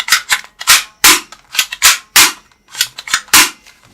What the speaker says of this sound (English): this is realistic toy rifle